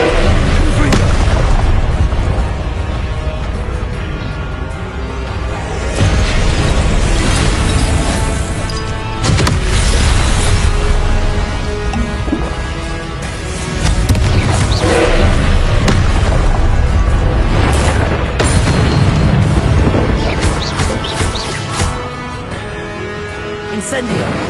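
Confringo fire spells in Hogwarts Legacy bursting in a dense, nearly continuous barrage of loud booms and blasts, with shouted voices mixed into the battle din.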